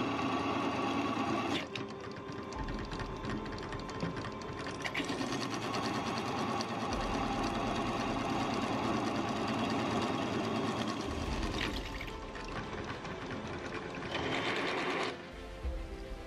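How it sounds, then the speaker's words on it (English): A drill bores holes through Magnacut steel knife blanks, a steady whirring mechanical drone with short pauses and changes in load, close and fairly loud. "So let's drill some holes and get these knives ready for the grinding."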